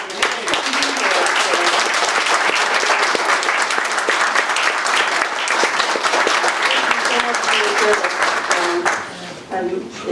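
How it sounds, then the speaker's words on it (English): A large audience at a political campaign speech applauds loudly and continuously, dense clapping sustained for several seconds before thinning slightly at the end. "so that we could give you a round of applause"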